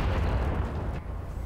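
Cannon fire in Strange Brigade, in the Cutthroat Caverns, comes as a deep, rumbling blast that fills the clip at moderate loudness and tails off after a second.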